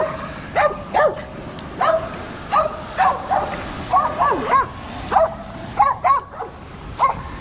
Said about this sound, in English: And we have some nice dogs barking at me